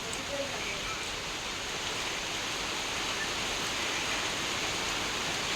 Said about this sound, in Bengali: মানে ঝড়ের মতো হাওয়া দিচ্ছে উল্টো পাল্টা